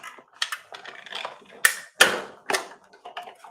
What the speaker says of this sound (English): Die cut that out.